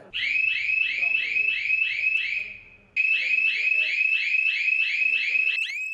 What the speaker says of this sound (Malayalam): റിമോട്ട് അമർത്തിയാൽ അലാറം മുഴങ്ങും